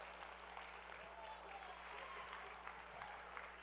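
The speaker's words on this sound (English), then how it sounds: "Everybody give him a nice round of applause." Sustained audience applause at a climate change symposium in Kingston, a steady dense wash of clapping hands from a crowd, with a low hum underneath throughout.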